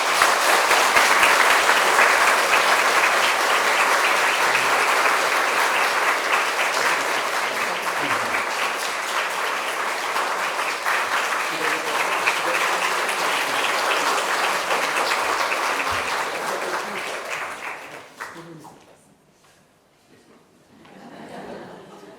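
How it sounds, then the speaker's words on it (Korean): A church congregation applauds during a Presbyterian pastor's installation service, the dense, steady clapping running loud for about eighteen seconds before quickly fading out, followed by a brief softer patch of sound. "박수 해주시겠습니다."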